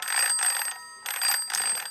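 A bell-like telephone ringing indoors, bright repeated electronic trills in two bursts with a short pause between, loud and close, no voices.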